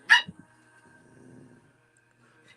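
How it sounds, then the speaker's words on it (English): Twin young puppies that have only just learned to bark: one sharp, high yip near the start, followed by faint scuffling and soft low sounds as they hop around. "Now that they know they can bark, they do all this hopping around and barking"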